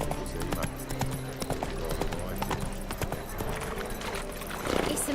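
Roach the horse in The Witcher 3 video game clip-clops at a steady pace, the hoofbeats rhythmic and fairly close, mixed with background game sounds and a brief snort or whinny near the end.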